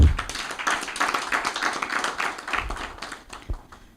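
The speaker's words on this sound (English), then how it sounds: "Can we please give him another round of hand clap?" A round of hand claps at a media briefing, thanking Henry: dense, close clapping from a group that starts strongly and tapers unevenly, with a few louder separate claps near the end.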